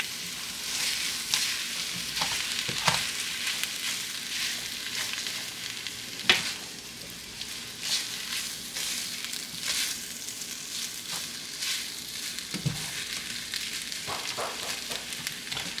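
Rice noodles for pad thai stir-frying in a hot pan, a steady close sizzle broken by scraping stirs and occasional sharp clicks of a utensil against the pan, with no voices.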